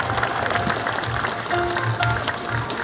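A seated audience at the opening ceremony of the 2015 Asia senior smart living expo in Kaohsiung applauds to welcome Kaohsiung mayor Chen Chu. The clapping is fairly faint and continuous for about three seconds, with brief tonal sounds in the room.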